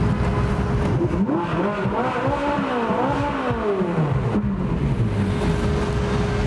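A Ferrari 458 Italia Spider's engine revs hard as the car accelerates, its loud, close wail rising and falling through several gear changes over steady road noise.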